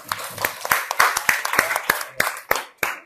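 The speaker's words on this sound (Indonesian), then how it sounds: "Tepuk tangan untuk kelompok 4." A small group in a classroom gives applause for a student team, producing a handful of loud, distinct hand claps in an uneven rhythm that becomes sparser toward the end, with some light chatter between.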